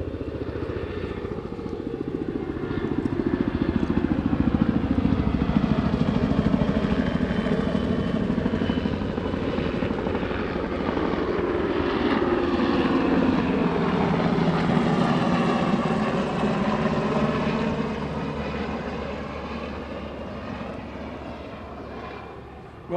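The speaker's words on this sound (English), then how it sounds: "as we do a flyby" A fixed-wing aircraft flies over a 2012 Wildfire Awareness Week event at Camp Pendleton, San Diego. Its broad engine roar swells, holds loud for most of the pass, then slowly fades, with no talking.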